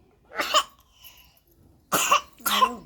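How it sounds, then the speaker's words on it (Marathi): Three separate coughs from a young girl, the first alone and the last two close together, fairly near and clear. "बघा पोरगी खोकती का नाही"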